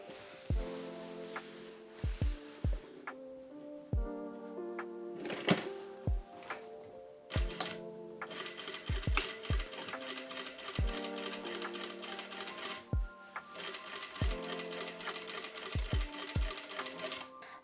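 A sewing machine top stitching a seam on a lace-up panel top runs in short, separate bursts of rapid clatter with pauses between them, punctuated by sharp clicks and knocks, fairly quiet and without any voice.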